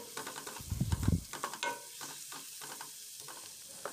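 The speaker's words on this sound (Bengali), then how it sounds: "পেঁয়াজটা ভাজা হচ্ছে, বেশ একটু লালচে রঙ এসে গেছে।" Chopped onion and tomato frying in a wok, a faint hiss and sizzle with a brief burst of stirring and scraping near the start, quiet and continuous.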